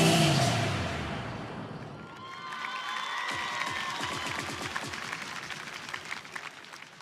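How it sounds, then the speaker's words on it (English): A crowd applauds and cheers for girls' high school dancers at a national youth awards ceremony, starting with a loud roar that settles into steady clapping as music plays underneath. "keep the applause going for the ladies from the Montego Bay High School for Girls"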